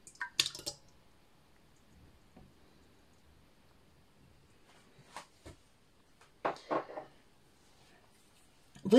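Egg yolks are poured into the bowl of a stand mixer, giving a few soft, wet plops and squishy splats spread between quiet gaps. They sound close and brief, with a sharper click at the very end and no speech.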